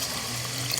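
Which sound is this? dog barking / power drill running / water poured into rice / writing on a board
water poured into rice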